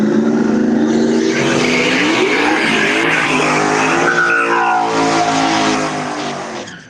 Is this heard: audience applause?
no